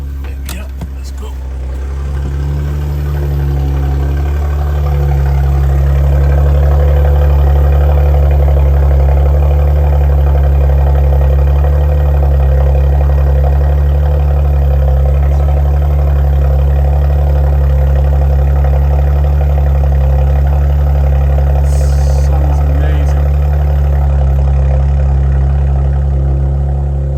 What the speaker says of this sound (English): That's the cold start finished with now.